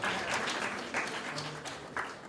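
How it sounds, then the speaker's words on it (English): An indoor audience applauds, a brief wash of clapping and faint cheers at moderate distance. "So a round of applause for"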